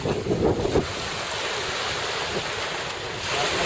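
Side-shore wind buffets the microphone on a kiteboarding beach, its roar blending with steady crashing surf throughout.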